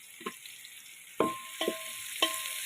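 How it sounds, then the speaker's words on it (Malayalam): Small onions sautéing in a pan, a quiet steady sizzle broken by a few metallic spoon taps and scrapes close by. "ചെറിയ ഉള്ളി വഴറ്റി എടുക്കുക"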